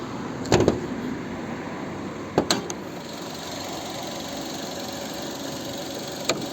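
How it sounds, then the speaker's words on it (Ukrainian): A 2.0-litre petrol Mazda 6 with an automatic transmission idles quietly and evenly, a low steady rumble with a few sharp clicks and knocks near the start. "Ось робота двигуна."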